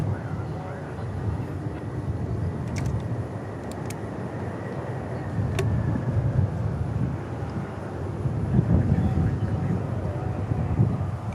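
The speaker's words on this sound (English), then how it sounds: "We got some Atlas action. 747 landing just now." An Atlas Air Boeing 747 landing at DFW airport on a hot night, a steady distant jet rumble that swells gradually, with faint wind and a few thin high tones over it.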